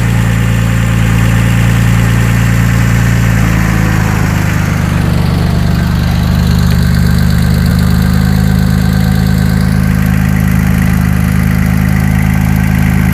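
Porsche 996 Turbo flat-six boxer engine idling, a steady loud low rumble with a slight shift in tone partway through, continuous and close with no talk.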